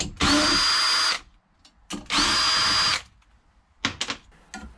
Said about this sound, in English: The entire flame tube assembly can be removed by taking out these 8 screws.